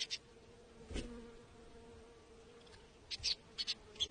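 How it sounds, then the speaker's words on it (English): Faint buzzing of flies around a honey badger's nose, with a few short, quiet buzzes coming and going over a low, steady outdoor background. "The cleanup crew even catches the annoying flies buzzing around the badger's nose"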